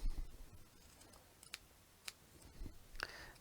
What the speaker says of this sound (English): Oh, don't you just love the sound of scissors?